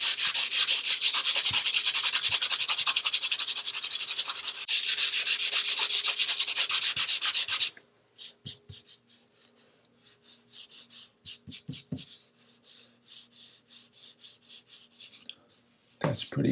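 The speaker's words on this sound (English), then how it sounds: "All right, let's sand it." Sandpaper rubs over an epoxy repair on a stone countertop, first as a long, loud, continuous grinding rasp, then as short separate strokes with pauses between them, close up.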